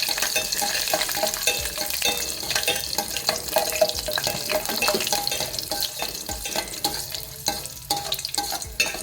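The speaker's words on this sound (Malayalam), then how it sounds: "മുന്തിരി ഇട്ടിട്ട് നമുക്കൊന്ന് റോസ്റ്റ് ചെയ്തെടുക്കാം." Raisins roasting in ghee in a pan for carrot payasam, a steady crackling sizzle with stirring scrapes running throughout at close range, no voices.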